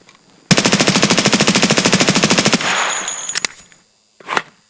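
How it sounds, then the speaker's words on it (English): Automatic rifle fire in the Escape from Tarkov video game rattles out as a loud, rapid burst of about two seconds, then cuts to a mechanical clatter as the gun jams, with a few clicks and a final metallic rack. "let me show you guys how quickly this gun overheats with the nerf"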